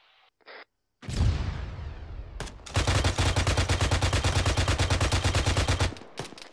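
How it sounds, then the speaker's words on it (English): Gunfire from a tower in a military video game: a single loud shot with a long echoing tail, then a sharp crack and a sustained rapid burst of automatic fire lasting several seconds, close and loud. "Still taking pot shots from the tower"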